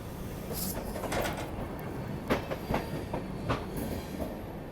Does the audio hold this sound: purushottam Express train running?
yes